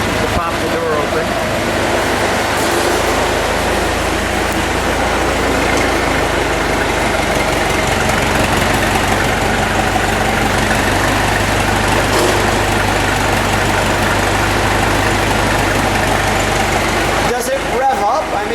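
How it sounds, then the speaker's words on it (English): A 1919 Ford Model T three-door touring car idles with a steady, low, rumbling exhaust note and constant mechanical vibration close by, the engine running evenly under faint background voices. "Let me make sure I get the exhaust note on the car."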